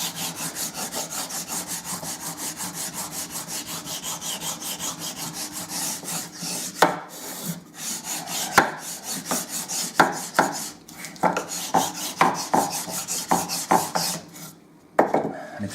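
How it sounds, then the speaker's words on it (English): Rubbing strokes from the bottom of a super glue bottle burnishing a wood inlay flat, a continuous raspy scrape breaking into separate short rubbing strokes in the second half, close and alone. "I'm going to burnish it with the bottom of the super glue"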